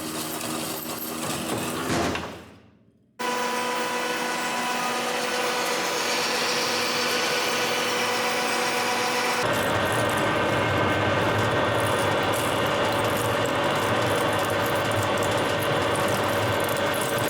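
A steady mechanical whir and grinding of a metal lathe turning and facing a metal motorcycle part, continuous and close, with a short pause before it resumes louder.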